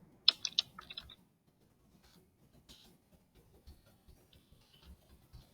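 A few quick keystrokes on a computer keyboard, clustered near the start and then thinning to faint, sparse taps against a quiet room background.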